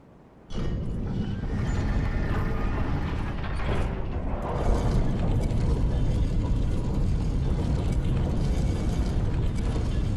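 In Dark Souls 3, a pulled lever sets a heavy mechanism moving: a sudden clunk followed by a long, loud, continuous grinding of gears and ratcheting parts that swells partway through and keeps rumbling to the end.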